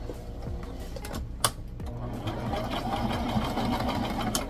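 Sewing machine running a steady zigzag stitch across tutu skirt fabric, a loud, continuous close mechanical whirring hum with rapid needle rhythm throughout.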